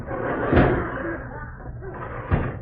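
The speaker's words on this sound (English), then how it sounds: "Wait till I close this door." A door is shut as a sound effect on a radio variety show, giving a sharp thump early on and another near the end, both under a man's ongoing speech.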